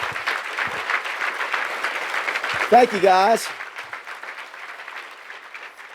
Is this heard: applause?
yes